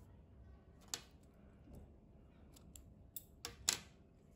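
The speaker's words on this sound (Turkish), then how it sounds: "İplik kesiyorum." Scissors snip through yarn after finishing a crocheted baby cardigan, giving a few short, quiet clicks and snips spaced over several seconds against a low background hum.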